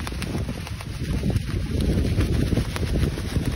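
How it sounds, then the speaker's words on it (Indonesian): Strong storm wind gusts roar steadily against the microphone while a kite is flown outdoors, a dense rushing noise with no voices. "angin badai ini, angin badai"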